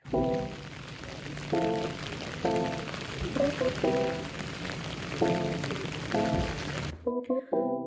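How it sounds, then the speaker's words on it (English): Steady rain falls outdoors as a broad, continuous wash, with a person speaking intermittently over it before it cuts off near the end. "am so wet and so sick and tired of this rain"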